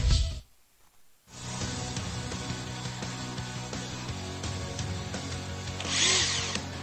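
Power tools buzz and whir continuously while repairing a helicopter's rotor in a Blaze and the Monster Machines video game, with a brief quiet gap near the start and a brighter burst toward the end, alone without talk.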